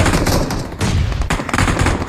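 Gunfire in the mobile battle game BGMI comes as loud, rapid bursts of automatic shots with brief gaps between volleys, close and dense with no speech over it.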